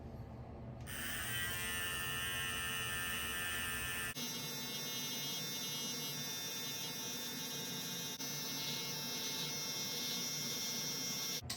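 A Remington T-Series MB7050 hair and beard trimmer runs with a steady, close electric buzz that holds unbroken throughout, with no talking.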